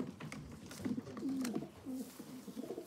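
A chequer cock racing pigeon coos softly in a few low, rolling phrases, close by but quiet, with faint background rustle and no talk.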